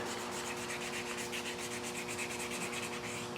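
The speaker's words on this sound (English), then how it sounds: "So I have some 400 grit. Okay, go ahead and wet the area, and we're just going to sand it out smooth." Wet sanding of car paint with 400 grit sandpaper gives quiet, rhythmic back-and-forth scrubbing strokes, close and steady, with a faint constant hum in the background.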